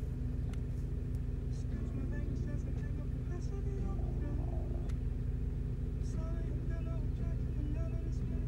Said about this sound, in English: I do apologize if you hear my car in the background